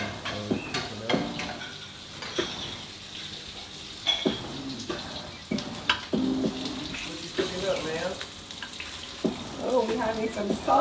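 Sausages and bacon frying for breakfast, a soft continuous sizzle with clinks and scraping, mixed with voices talking.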